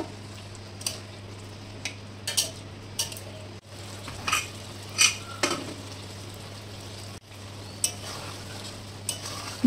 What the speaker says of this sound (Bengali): দেখো এখানে ভালোভাবে কষিয়ে নিচ্ছি আমি আলু আর ছোলাটাকে।